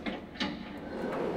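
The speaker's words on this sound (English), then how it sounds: "You can open that door?" In the video game Garten of Banban 4, a door opens with a few soft, short mechanical scrapes and clunks followed by a quiet sliding rumble, all faint and without talk.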